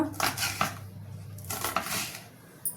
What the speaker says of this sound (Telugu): కట్ చేసుకొని ఒక్క కంచుట్లో వేసుకుంటున్నా నేను